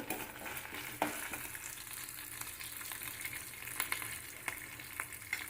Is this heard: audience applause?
no